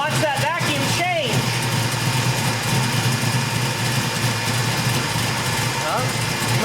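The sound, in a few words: Chevrolet 454 big block engine idling during carburetor tuning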